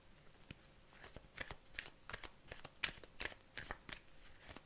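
Tarot cards shuffled by hand before a reading, a series of crisp riffling bursts and soft flaps at irregular intervals, close and fairly quiet, with no voices.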